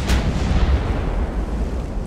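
Five-inch naval guns in Ultimate Admiral: Dreadnoughts give a muffled chuff near the start, followed by a heavy, low rumbling roll that lingers throughout.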